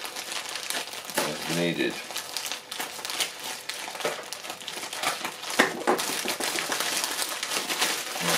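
Thin plastic packaging on a Lepin Lego set crinkles and crackles as it is peeled back, in close, irregular bursts. Someone speaks over part of it.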